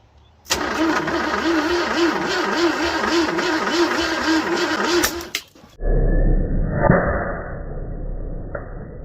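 A 1979 Ford F150 engine that sat for over 20 years cranks over loudly on its starter in a steady rhythmic churn for about five seconds, then cuts off, followed by a rough low rumble.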